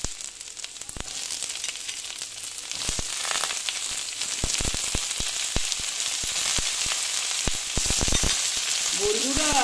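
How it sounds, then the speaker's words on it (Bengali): Ridge gourd slices frying with onions in a pan: a loud, continuous close sizzle with scattered clicks and spatula scrapes, growing slightly stronger over time, no talk. "এখন আমি এইগুলো ভেজে নিচ্ছি"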